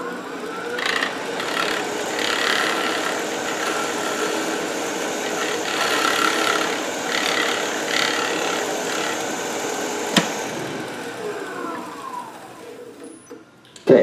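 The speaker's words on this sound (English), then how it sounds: "Okay, so I'm using my spindle gouge. I got a pretty clean cut there" A spindle gouge cuts wood on a turning lathe, producing a steady, close scraping and hissing with faint rhythmic pulses as the tool passes over the piece, ending in a sharp click and a brief knock.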